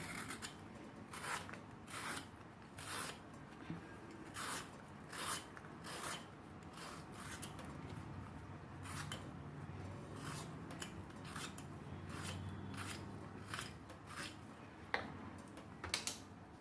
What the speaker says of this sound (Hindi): तो फ्रेंड्स, सबसे पहले हम गलका को छील लेते हैं।